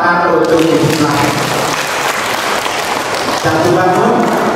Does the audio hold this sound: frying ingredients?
no